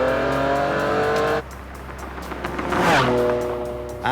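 Ferrari Enzo driven hard on a closed-off interstate, its engine note roaring at high speed, easing off around one and a half seconds in, then surging again with a rising whine as it accelerates, loud and close, no talking.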